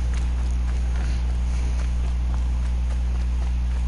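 Hoofbeats from a horse in Horizon Zero Dawn, a regular clip-clop walking rhythm heard moderately close, sitting over a heavy steady low drone with no talking.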